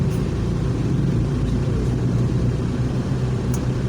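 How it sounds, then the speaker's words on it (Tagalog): Road traffic in a barangay in Tanza, Cavite, a steady close engine rumble of vehicles with a continuous low drone and no pauses. "Oh, traffic."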